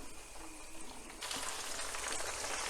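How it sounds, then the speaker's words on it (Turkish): Chicken schnitzel sizzles and crackles in hot oil, the frying growing louder and more intense partway through, fairly quiet and with no talking. "Her iki tarafını da yağda güzelce kızartacağım."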